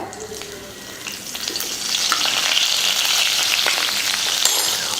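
Cumin seeds and curry leaves dropped into hot oil, a bright sizzle that swells after a couple of seconds into a steady, fairly loud crackling fry.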